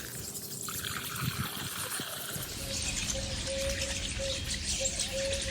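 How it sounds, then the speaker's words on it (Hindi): Water trickles and pours into a bird water dish outdoors in hot weather, a soft steady splashing stream that grows fuller as the dish fills, with no talking. "इसमें पानी नहीं है पक्षियों की, इसमें पानी डाल देते हैं"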